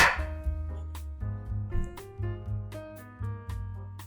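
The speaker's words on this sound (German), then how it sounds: "Ingwer in Scheiben schneiden." Several sharp knife strikes slicing ginger against a cutting board, spaced irregularly, close by, over a steady musical background.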